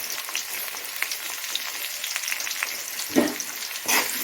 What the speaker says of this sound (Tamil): வெங்காயம் வந்து நல்லா கொஞ்சம் ப்ரௌனாக வதக்கணும்